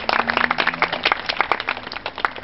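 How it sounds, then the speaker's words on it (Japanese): A crowd applauds at a 2011 tournament ranking announcement in Musashi-Urawa, a dense, steady patter of many hands clapping from start to finish at moderate volume. "5位から発表としますので皆さん大きな拍手お願いします"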